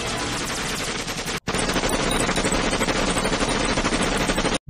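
Relentless automatic gunfire in a video game rattles continuously at high volume, dense and unbroken apart from a brief cut partway through, with no talking over it.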